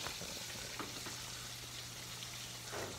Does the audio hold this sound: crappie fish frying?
yes